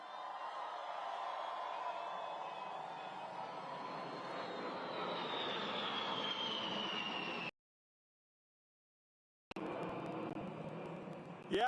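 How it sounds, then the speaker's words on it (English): A B-52 bomber flies overhead at an outdoor Independence Day event at Mount Rushmore, its jet engines a broad, loud roar that swells and slowly shifts as it passes, with crowd noise beneath. "Yeah, baby, that's a B-52."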